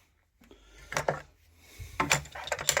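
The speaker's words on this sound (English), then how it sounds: "I've got my spanners," Metal spanners clink and rattle as they are handled in a small toolbox in a cellar workshop, with a few separate bursts of close jangling between quiet gaps.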